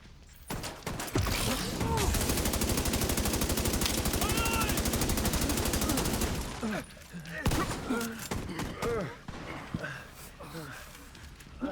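Turret gunfire in a video game, a long rapid mechanical burst of shots lasting several seconds, loud and sustained, then sporadic game sounds with someone talking over it.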